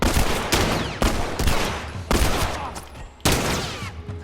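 Loud, close gunshots in The Last of Us Part II at a Firefly camp, about seven sharp reports at uneven intervals, each trailing off in a reverberant tail.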